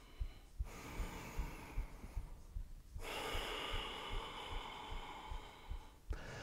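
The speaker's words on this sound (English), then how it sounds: "Look straight forward. Three deep breaths." Slow, deep breaths held through warrior two in a sweaty power yoga flow, each long inhale and exhale heavy and close, with faint soft thumps beneath and no talking.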